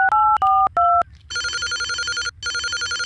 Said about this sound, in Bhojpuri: हमरो फोन करतन, एक जगह फोन आइ रहला।